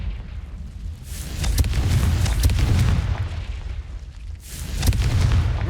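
A Confringo spell in Hogwarts Legacy sets off heavy, rumbling blasts, two loud booming explosions with crackling debris and a brief lull between them, with no talking.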